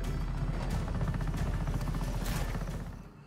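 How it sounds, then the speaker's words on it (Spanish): Helicopter arriving in Just Cause 3, a loud, steady rotor thrum with rhythmic blade chop and engine whine, close and dominant throughout before fading at the end. "El piloto de Sheldon acaba de recogerme en un helicóptero."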